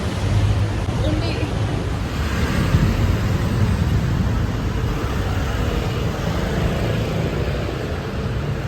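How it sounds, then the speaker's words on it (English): Strong wind beside the Trevi Fountain in Italy batters the microphone with a continuous low rumbling roar that holds steady and loud throughout, drowning out any other sound. "It's not sunny anymore and it's very windy."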